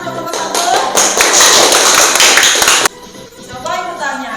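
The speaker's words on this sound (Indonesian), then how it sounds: "tepuk tangan untuk nomor 1" Classroom applause for a student during a teacher's practice lesson, a dense burst of clapping from many pupils that stops abruptly, with children's voices chattering around it.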